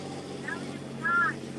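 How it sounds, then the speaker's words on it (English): A car passes by on a road in Glacier National Park, a low rumbling whoosh that swells briefly near the end over a steady engine-like drone. "So sorry about that noise as that car went past"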